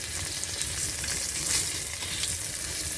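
Hibas seashells frying in a pan give a dense, even crackling sizzle, steady and close throughout with no speech.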